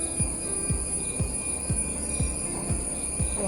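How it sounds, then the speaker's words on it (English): Insects calling in a forest near a waterfall in Netravali Wildlife Sanctuary, South Goa: a steady high-pitched shrill drone over a low evenly repeating pulse, with no voices. "This is the sound of some insects."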